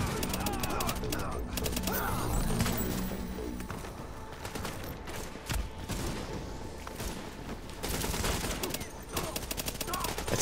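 A weapon fires repeatedly in The Division during a Times Square power relay mission, with rapid bursts of gunfire and scattered thuds coming and going over the full stretch, sometimes dropping away and returning.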